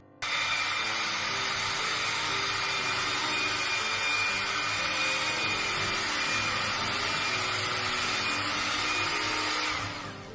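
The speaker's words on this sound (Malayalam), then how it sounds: "ഫസ്റ്റ് നമ്മൾ ഷുഗറും ഈ ബട്ടറും കൂടി ഇട്ടിട്ട് നല്ലോണം മിക്സ് ചെയ്യണം." An electric hand mixer beats sugar and butter for a cake batter, a steady loud motor whir running continuously for about ten seconds and cutting off at the end, with no voices.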